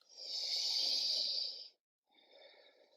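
Steady breathing during a vinyasa yoga flow in downward facing dog: a long, airy breath of nearly two seconds, a short pause, then a softer second breath, close and alone.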